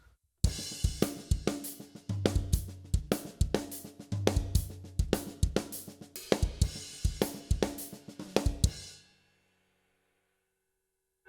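Drum kit plays a busy ghost-note lick, quick snare and hi-hat hits with heavier accents, the last right hand hit moved to the floor tom, repeated through several bars, close, ending with cymbal decay.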